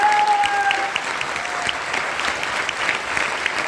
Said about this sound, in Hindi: इसके लिए थोड़ा जोरदार ताली होना चाहिए।